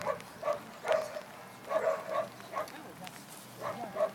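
A dog at a group training course in Boirs, Belgium, giving short repeated yips and whimpering barks in uneven bursts, moderately close amid a quiet room.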